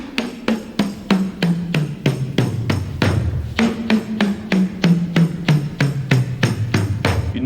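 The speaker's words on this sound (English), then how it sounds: "keeping the same amount of pressure on your thumb, just slide it out toward the edge" Hand drum struck repeatedly while a thumb slides toward the edge under steady pressure, giving quick tom-tom-like hits in a steady rhythm whose tone glides downward in pitch, close and loud with no talking.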